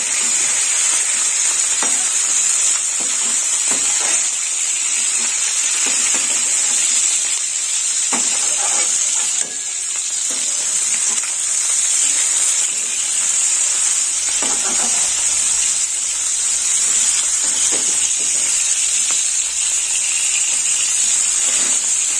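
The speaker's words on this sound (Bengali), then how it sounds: "এইভাবে বাঁধাকপিগুলো ভেজে নিতে হবে।" Cabbage frying in a pan for a brinjal cabbage curry, giving a loud continuous sizzle with a bright steady hiss and occasional stirring scrapes, no voices.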